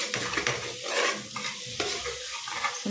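Mutton biryani masala sautéed in oil in a pan, a continuous close sizzle with rhythmic stirring scrapes and shuffles from the spoon, no voices.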